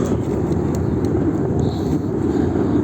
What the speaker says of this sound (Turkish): Çok yoğun gürültü ses var ama uçağı göremedim. Helikopter mi nedir?